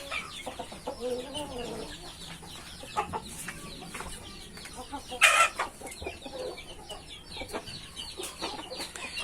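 Free-range village chickens cluck and cackle around a hen laying eggs in a backyard coop, with a steady mix of nearby hen chatter, a few louder squawks midway, and faint background bird noise.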